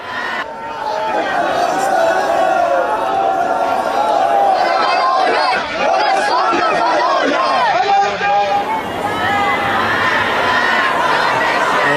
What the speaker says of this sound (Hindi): तेहरान में उनके पूर्व सुप्रीम लीडर अली खामनेई के जनाजे में ये जो भारी भीड़ उमड़ी है उसको देखिए